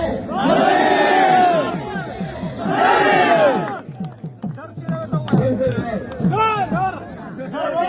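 Large political rally crowd chanting slogans in support of Imran Khan, two loud unified chant bursts followed by looser shouting and scattered voices, the crowd massed and close.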